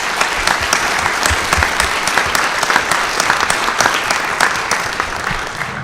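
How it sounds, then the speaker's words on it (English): Loud, sustained applause from a conference audience for a plenary panel at a South Carolina water resources conference, many hands clapping in a dense, uneven patter that stays strong from start to finish. "if we could give a round of applause to our panelists"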